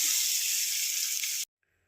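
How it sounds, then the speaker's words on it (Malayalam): Hot mustard-seed tempering poured into a jackfruit-seed, mango and drumstick curry gives a loud, steady hissing sizzle that cuts off abruptly after about a second and a half, leaving near silence. "അപ്പോൾ നമ്മുടെ കറിയിലേക്ക് കടുക് വറുത്തത് ഒഴിച്ചു കൊടുക്കാം"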